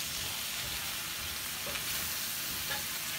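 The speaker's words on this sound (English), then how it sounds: "So we're gonna let this saute down a little bit." Chicken fajita ingredients sauté in a pan, giving a faint, steady sizzle and soft hiss throughout, with only slight stirring movement and no one speaking.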